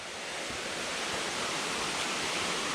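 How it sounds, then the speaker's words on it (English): Water rushes steadily at the Sungai Pandan Waterfall near Kuantan, Malaysia, a loud unbroken roar of falling water filling the air close by, swelling slightly as it continues. "it looks like we're getting closer and closer to the top of the waterfall"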